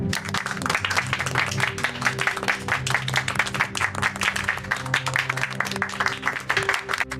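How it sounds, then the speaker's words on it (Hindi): A room full of people gives loud applause for Miss Brooks, a teacher, honouring her work; dense, steady clapping fills the stretch with a low tonal hum underneath. "तो आइए हम सब मिलकर मिस ब्रुक्स के लिए जोरदार तालियां बजाते हैं उनके अद्भुत काम के लिए"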